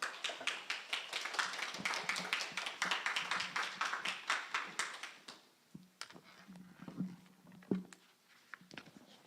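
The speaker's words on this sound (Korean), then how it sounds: "여러분들 우리 목사님 나오실 때 큰 박수로 환영해 주시면 감사하겠습니다." A church congregation at an anniversary thanksgiving service applauds to welcome their pastor, a dense burst of clapping that thins into scattered claps and trailing taps before fading.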